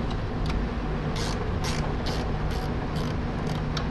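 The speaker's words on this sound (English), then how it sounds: "We would remove these bolts." A ratchet wrench loosens quarter-20 bolts holding the tray of an air skid, a series of short metallic clicking bursts repeating roughly every half second over a steady loud mechanical hum.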